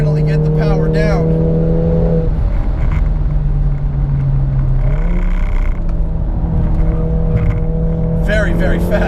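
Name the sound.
RevoTechnik Stage 3 VW Mk7 GTI accelerating on track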